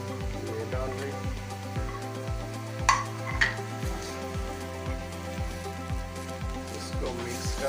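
Mashed potato paratha filling of potato and chopped green coriander is stirred in a pan, a regular series of soft scraping, sizzling strokes repeating about every half second, with a couple of sharper clinks of the utensil.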